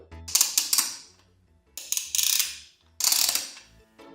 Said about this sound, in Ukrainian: Поруч із кнопкою активації знаходиться тріщатка для створення тактильно-шумового ефекту.